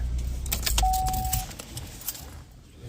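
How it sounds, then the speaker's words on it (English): Car keys jangle and clink for a couple of seconds as they are picked up and carried along, close and fairly quiet, over a low background hum. "so I take my keys with me"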